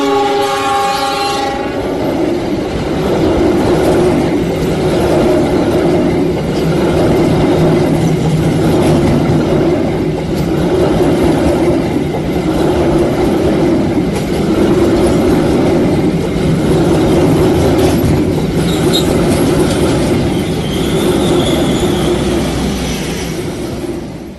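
An executive-class passenger train pulls in, its horn sounding loudly at the start, then a steady close rumble and rhythmic clatter of wheels over rail joints as the carriages roll past.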